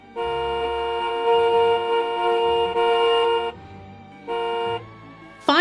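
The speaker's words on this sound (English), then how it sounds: "He honked the horn impatiently." A car horn honks loudly in two long blasts, the first held for several seconds, the second shorter after a brief pause.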